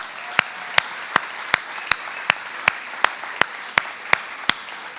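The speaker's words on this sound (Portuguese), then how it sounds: "Hoje não é o dia da apresentação, não, mas vamos aplaudir" A small church congregation claps together during an online worship service, each sharp clap landing in a slow, steady unison rhythm, about a dozen in all, clear and close with no talk.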